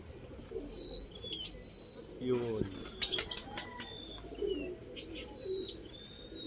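Pigeons coo softly in a racing pigeon loft and a burst of wing flapping comes midway, with small birds chirping and a brief spoken word.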